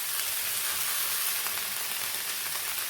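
Chopped tomatoes with curry leaves sauté in a hot pan for tomato theeyal, a steady hissing sizzle with faint stirring clicks and no talking.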